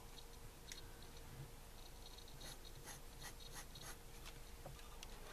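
Fine steady scratching of a Sailor Pro Gear Earth Edition fountain pen with an extra-fine nib writing on paper, soft close strokes with small ticks under a faint background hiss, no voices.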